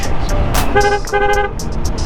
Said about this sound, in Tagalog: Ang mahalaga na pagawa natin ng busina natin.